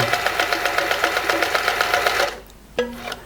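A Privileg 865 sewing machine stitches a buttonhole, its needle pounding in a fast, even rhythmic chatter up close, then stopping abruptly, followed by a brief click and a short whir.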